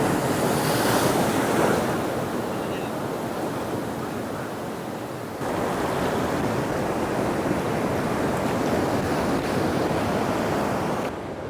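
Surf rolling in at Shelly Beach, Caloundra, a steady broad wash of breaking waves with wind buffeting the microphone, continuous and fairly loud, no talk.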